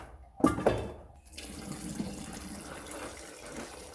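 Coolant draining from a 2007 Mazda Miata into a bucket: a splashing gush of liquid at first, then a steady, fairly faint trickling pour.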